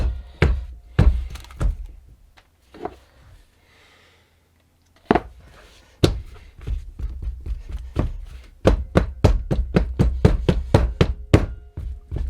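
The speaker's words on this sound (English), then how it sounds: "I'm banging it to try and make sure that I get it in all the bits" A silicone plant pot mould filled with white cement is banged on a surface, giving sharp thumps, a few scattered at first, then a brief pause, then a fast run of repeated knocks, close and loud.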